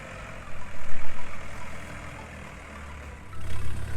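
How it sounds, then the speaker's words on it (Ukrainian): A Scout 504 mini tractor engine runs steadily up close, with a low throbbing chug that swells and fades a few times. "Ось тест-драйв двох міні-тракторів."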